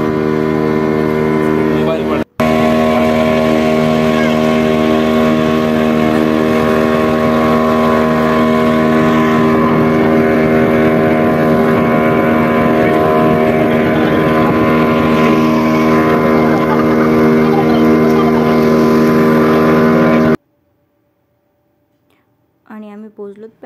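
A motorboat drones steadily on the ride from Chunnambar boat house to Paradise Beach, its engine hum loud and constant with wind buffeting the mic for about twenty seconds before it cuts off abruptly, followed by a brief faint sound.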